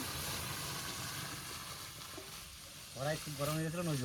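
Hot oil spattering in a pan while cooking sour dal with karamcha and dried chillies, a steady crackling sizzle throughout, with a person's voice speaking and exclaiming over it toward the end.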